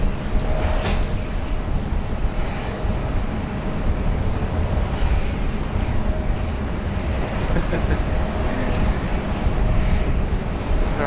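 A Dassault Falcon 50 business jet arrives at Sydney Airport with a steady, broadband jet roar that holds for the whole stretch, fairly loud and distant-sounding, with faint background noise.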